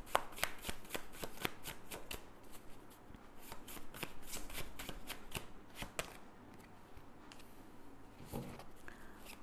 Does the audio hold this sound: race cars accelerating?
no